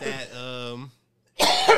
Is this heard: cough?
yes